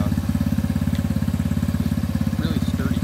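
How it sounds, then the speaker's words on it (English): A Coolster tiny jeep go-kart's 125cc air-cooled engine idles close by with a fast, even putter. Faint voices are heard behind it near the end. "125cc engine, air-cooled."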